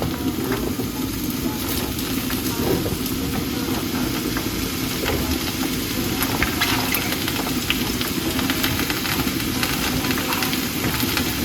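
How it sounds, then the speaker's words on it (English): Mushrooms frying in a pan, a steady broad sizzle with light crackle and occasional stirring, close and even throughout, with a faint low hum underneath. "we're gonna fry off this mushroom"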